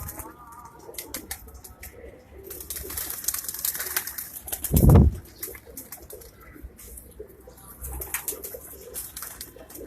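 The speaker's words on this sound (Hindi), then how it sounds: "कुछ आज़ाद कबूतर हैं यहाँ पर" Free pigeons outdoors give soft intermittent coos with a burst of wing flapping midway, close by, alongside light clicking and scattered background noise, with no clear speech.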